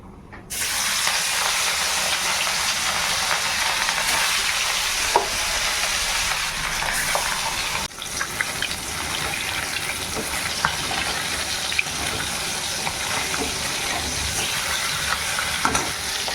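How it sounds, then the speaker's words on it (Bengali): Fish frying in hot oil, a loud, steady broadband sizzle that starts abruptly and holds for the whole stretch, with occasional small pops and crackles, close and alone with no talk. "তেল হয়ে গেছে এবার মাছগুলো ছেড়ে দেবো"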